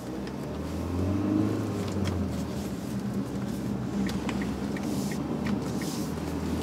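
Interior engine hum of a 2010 Kia Sportage 2.0 CRDi diesel under acceleration, a low steady drone that swells briefly and then holds, with faint road noise and small clicks, no talk.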